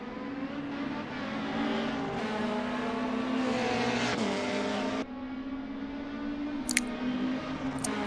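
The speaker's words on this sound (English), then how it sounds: "Rudolf pushing really hard. And he is not going to back off until he's right on the tail of that Audi" Race cars at a Phakisa saloon car revival race, an Opel Astra chasing an Audi on track, hold a steady loud engine drone throughout, with a brief shift in pitch midway and a couple of sharp high squeals near the end.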